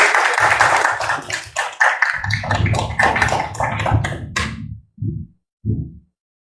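A church congregation claps in praise during a worship service, a dense burst of applause mixed with voices that thins out, ending in a couple of short, separate bursts before silence.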